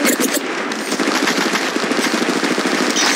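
Rapid automatic gunfire in the mobile battle royale game Apex Legends Mobile, a loud, dense, unbroken stream of close shots rattling through the whole stretch with no talking.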